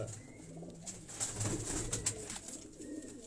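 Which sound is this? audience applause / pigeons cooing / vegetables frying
pigeons cooing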